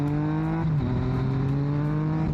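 Yamaha MT-09 motorcycle accelerating hard in B mode, a loud, close engine note climbing in pitch through a gear change with a brief dip before rising again.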